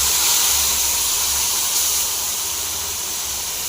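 Thuthuvalai fruit paste poured into hot tempering oil with popped mustard seeds and curry leaves, giving a loud, steady hiss and sizzle that fades slightly toward the end, alone without talk.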